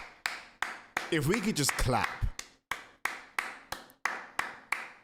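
A few sharp, separate hand claps close by, spaced about half a second apart, with a brief burst of speech partway through.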